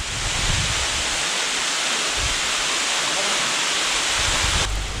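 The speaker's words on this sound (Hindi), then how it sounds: "एकदम ऊपर से पानी नीचे गिर रहा है।" A glacier-fed waterfall in a Himachal Pradesh valley pours down in a loud, steady roaring rush close by, constant from start to finish with no clear talking.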